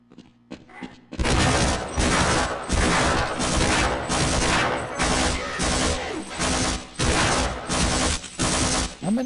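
Rapid gunfire in the video game Half-Life: Blue Shift, a loud, dense burst of repeated shots in quick rhythmic bursts lasting several seconds after a few faint clicks.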